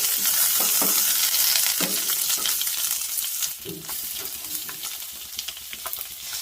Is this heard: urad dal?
yes